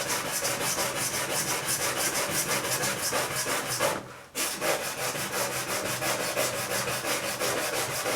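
Wet sanding with 240-grit sandpaper, rapid rhythmic back-and-forth rubbing strokes, close and steady, with a brief pause midway before the scrubbing resumes.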